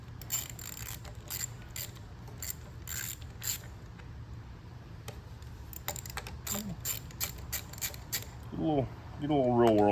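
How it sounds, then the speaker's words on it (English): A ratchet clicks rapidly in bursts while manifold bolts are tightened on a plastic check valve housing of an AR45 pump outlet manifold, set against a steady low hum, with a few squeaky metallic creaks near the end and no voices. "as you're tightening these up initially, do not go crazy"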